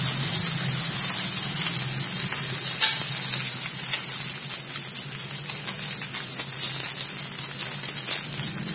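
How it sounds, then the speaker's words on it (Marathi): Soya chunks frying in a pan with a little hot oil, giving a steady, loud, close sizzle that runs the whole time with faint stirring scrapes and no talk. "ते मी एका पॅन मध्ये एकदम थोडं तेल गरम करून घेतलं आहे. त्याच्यामध्ये आपले हे सोया चंक्स टाकून द्यायचे."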